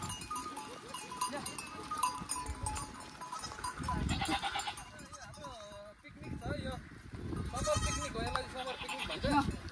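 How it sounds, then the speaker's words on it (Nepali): A large herd of goats bleats repeatedly in an open outdoor spot, the calls overlapping at close to middle distance, with people talking over them throughout. "यहाँ देख्नु सक्नुहुन्छ बाख्राहरू चाहिँ एकदम टन्नै रहेछ यहाँनिर"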